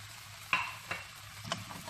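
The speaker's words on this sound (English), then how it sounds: "After the soya, I'm gonna put all the fried beef" Fried beef tossed in a hot pan with soy sauce, giving a low sizzle broken by a few sharp scrapes and clatters as the pieces are stirred, with no talking.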